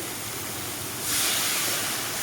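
Water is poured into a pan of vegetarian curry gravy, producing a steady rushing hiss close by that swells slightly partway through.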